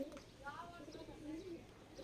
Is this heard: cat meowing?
no